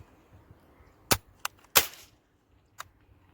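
A toy cap gun fires for Diwali, giving a few sharp, close cracks, two in quick succession followed by a louder pop and a fainter snap a second later, against a quiet background.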